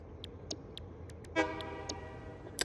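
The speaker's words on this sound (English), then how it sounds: "This stupid train's gonna keep on beeping until I tell it to do something" A train horn in a factory-building video game toots repeatedly in short separate bursts, with one longer, louder blast in the middle, all over a low steady background hum.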